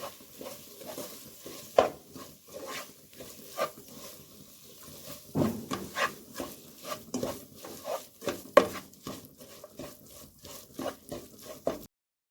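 Turmeric and Kashmiri red chilli powder being mixed in a pan for egg curry: a steady run of close scraping stir strokes and utensil knocks against metal, with a faint sizzle underneath.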